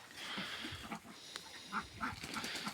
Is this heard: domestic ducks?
yes